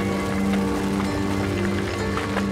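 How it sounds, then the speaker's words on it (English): Loose rocks tumbling down the slope of Arenal, an active volcano, heard as a steady rushing, clattering rumble with scattered clicks throughout, fairly loud and continuous. "I can already hear rocks coming down the side of the mountain."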